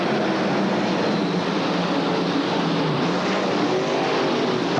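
Dirt late model race cars piling into each other in a crash at Eldora Speedway during a USAC 4-Crown Nationals race, a loud, dense roar of engines and noise that holds steady throughout with no talk.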